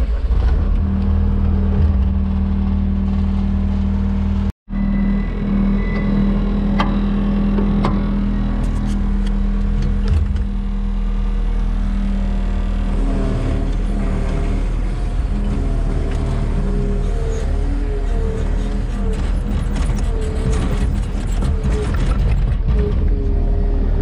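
A tractor with a bucket loader scoops wood shavings in a heifer barn alleyway, its engine droning steadily throughout with mechanical clanks and rattles and a brief dropout near the start.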